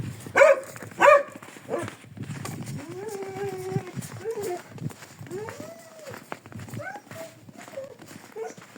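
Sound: dog barking

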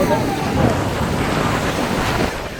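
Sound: sea waves at the seashore

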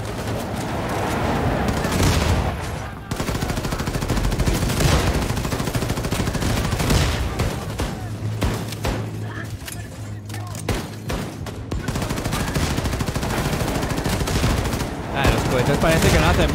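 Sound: rocket fire in video game

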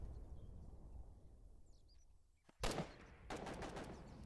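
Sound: artillery gun firing in the video game Foxhole

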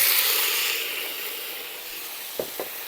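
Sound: potatoes frying in a pan over an open fire

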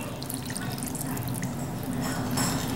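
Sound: pouring wet marinade over cut chicken thighs

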